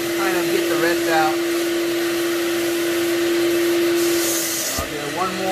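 A FLEX wet/dry vacuum making a dry pass runs as a steady, loud whine with a strong constant hum, with brief human sounds over it.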